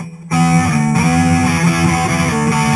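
Electric guitar through a modeling amp with distortion, a short burst of sustained, buzzing overdriven notes that starts abruptly after a brief moment of quiet and rings on loudly.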